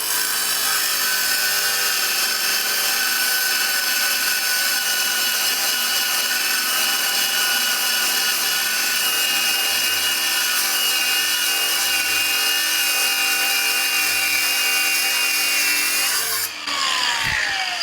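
A cut-off disc slicing into a metal steering part of a '41 Merc, a sustained high grinding screech held loud and close before a sudden change near the end.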